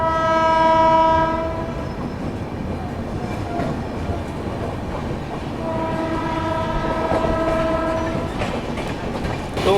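The Howrah–New Delhi Poorva Express at Buxar station gives off a loud, close rumble with rail clatter, and two long, sustained horn blasts sound over it, one near the start and another later.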